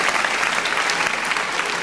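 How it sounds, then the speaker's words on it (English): Audience at the IFA 2025 tech show in Berlin breaks into steady, dense applause, loud and continuous for the full stretch with no pauses. "You see, that's an applause."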